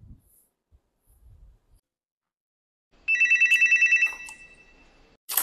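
After near silence and a few faint soft knocks, a telephone bell rings loudly with a rapid, even trill lasting about a second, followed by a clatter, suggesting an incoming collect call.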